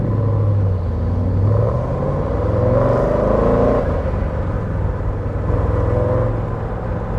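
A 1963 Chevrolet Corvette Stingray engine rumbles steadily from inside the car while driving on a dry day, with a low continuous drone that swells slightly as the throttle opens and eases off.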